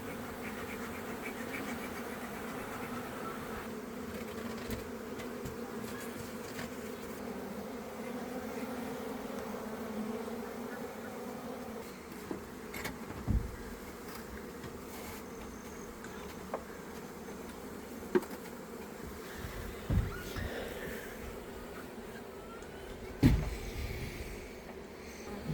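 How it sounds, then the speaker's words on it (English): Honey bees swarm around a beehive opened after winter, a continuous droning buzz close by with individual bees zipping past the microphone now and then and soft handling knocks, no talking. "The bees look great. Nice and healthy and plenty of them."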